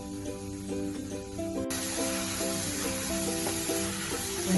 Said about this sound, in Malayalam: അതിലേക്ക് എടുത്തു വെച്ച ഇഞ്ചി വെളുത്തുള്ളി പേസ്റ്റ് ഞാൻ അതിലോട്ട് ഇടുന്നു.